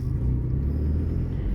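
A car driving on a road trip near Ooty, heard from inside as a loud, steady low engine and road rumble that holds constant throughout, with no voices.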